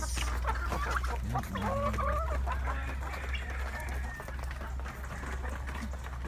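Backyard farm chickens cluck and murmur continuously at feeding time, close and busy, with a short spoken word over the flock at the start.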